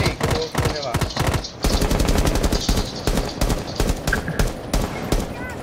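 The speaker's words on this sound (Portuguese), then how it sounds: "Nossa, quem tá atirando ali?" Rapid gunfire in the video game Rainbow Six Siege, dense bursts of sharp automatic shots with brief gaps between volleys, loud and close, with players talking over the shooting.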